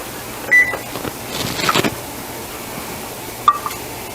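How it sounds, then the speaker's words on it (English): Kitchen oven timer being set, giving a few short electronic beeps spaced apart over a low hum, with faint clicks and handling noise between them. "I'm going to set my timer for 20 minutes."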